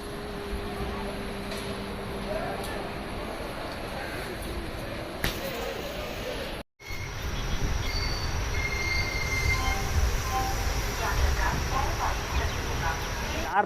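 Kollam Express train 16102, bound from Kollam to Chennai Egmore, pulls out of platform 1A at Kollam station: a steady rumble of rolling railcars with a wheel squeal early on, then a louder, closer roar after a brief cut.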